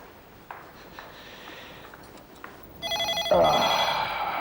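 An indoor telephone in a home breaks into a bright, repeating electronic ring after a few quiet knocks and shuffles, growing loud and insistent at the end.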